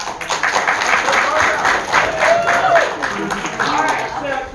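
Audience at a Certamen quiz competition clapping as teams from California, Georgia and Massachusetts are introduced, a dense rhythmic round of applause filling the room, with voices mixed in.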